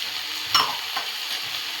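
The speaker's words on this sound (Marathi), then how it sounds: "सब्जी मसाला ॲड करूया आणि परतून घेऊया." Spiced okra for bhindi masala sautés in a pan, a steady close hiss of frying with one brief scrape of the spatula.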